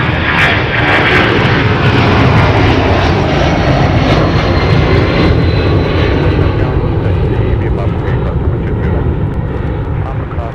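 A Delta jet airliner departing MSP airport, its engines roaring loud and steady throughout, a broad continuous rumble that barely fades, heard alone without talk.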